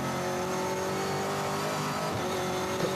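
V8 SuperTourer race cars scream past at Hampton Downs circuit in Waikato, New Zealand, a loud, sustained engine roar with rising pitch as they accelerate, heard from a vantage point above the corner.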